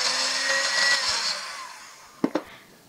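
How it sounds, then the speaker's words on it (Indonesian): An electric mixer whirs steadily on low speed while mixing cake batter with cornstarch, then winds down and stops, followed by two sharp knocks near the end. "Kalau sudah, mixer lagi sebentar dengan kecepatan rendah."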